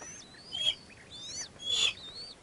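A Harris hawk in the Sonoran Desert gives two thin, high, slurred screeching calls about a second apart, fairly close against quiet background.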